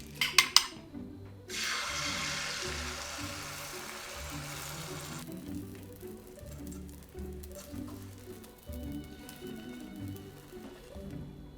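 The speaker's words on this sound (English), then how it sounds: "now I'm just gonna scramble an egg" An egg is scrambled in a frying pan beside spam for a breakfast slider: a sharp metal clink or two, then a steady soft sizzle with the scrape and tap of a utensil stirring against the pan.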